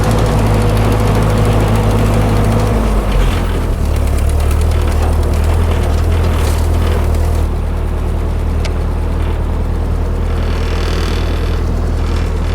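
Rock bouncer off-road vehicle with its engine running hard in third gear, a loud steady low rumble and vibration throughout with a brief shift in pitch near the start, no talk over it.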